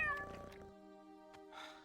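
A single drawn-out cat meow, fairly quiet and close, with a faint breathy sound at the end.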